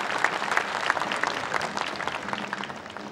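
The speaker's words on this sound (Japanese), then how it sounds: "温かい拍手に包まれまして、" Warm, steady applause from spectators at a baseball spring training camp, many hands clapping evenly at moderate distance throughout without pause.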